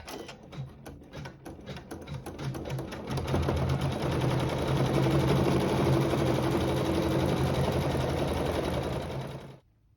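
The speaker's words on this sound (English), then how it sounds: "we'll sew the satin stitch over fabric 5 using a thread that matches the fabric" A sewing machine runs a satin stitch over fabric, starting with a few separate stitches and then settling into a fast, steady whir for several seconds before it stops abruptly.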